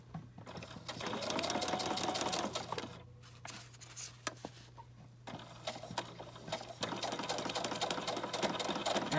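Sewing machine stitching fabric covers together for an accordion journal, a rapid close mechanical whir running in bursts, stopping briefly and starting again at a slow steady pace.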